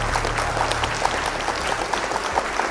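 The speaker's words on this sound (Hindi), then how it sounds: "जोरदार तालियां." Hearty audience applause fills the whole stretch at a televised Hindi student quiz competition, steady clapping from a crowd with no voices over it.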